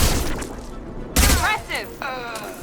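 Gunfire erupts in a Mass Effect 2 firefight, with a loud burst of shots and a heavy impact, and shouting voices mixed into the chaos.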